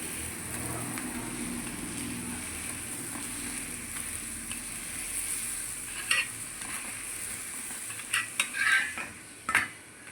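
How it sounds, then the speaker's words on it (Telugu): Rice flour appalu frying in oil in a pan as they are flipped, giving a steady low sizzle with a few clinks and scrapes of the utensil toward the end. "ఇలా తిప్పేసుకుందాం మనము చిన్నగా ఆయిల్ పైన పడుతుందండి చూసుకొని తిప్పేసుకోండి మీరు"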